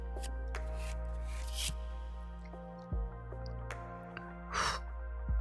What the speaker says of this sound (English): I'm shuffling the cards now.